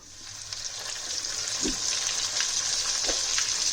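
Breaded chicken Kiev goes into hot oil and fries with a steady, bright sizzle that grows slightly louder, broken by a couple of soft thuds, close up with no speech.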